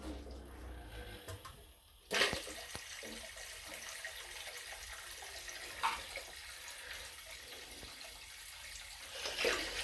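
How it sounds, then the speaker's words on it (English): Water drains from a water heater tank through a washer hose, a soft steady rush of flowing water starting after a brief quiet moment, with faint clunks and handling noises. "I connected the washer hose, and I'm going to open the drain."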